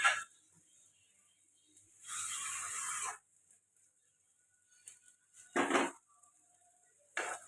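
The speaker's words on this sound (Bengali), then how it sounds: "ছোলার ডালটা ভিজিয়ে রেখেছিলাম, এটা আমি প্রেসারে সেদ্ধ করতে দিয়ে দিচ্ছি।" Soaked chana dal goes into a pressure cooker, with a sustained metallic scrape and pour lasting about a second. Two short, bright clattering knocks of pots follow, with quiet gaps between them.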